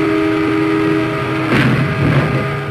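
Train rolling loud and close on railway tracks, with a humming engine drone, then a sudden harsh burst of impact noise as it strikes a stopped SUV on the rails.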